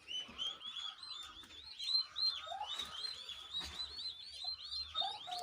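Many small peeping chirps of ducklings overlap in a busy, continuous chatter, fairly quiet and close, with occasional soft lower calls mixed in.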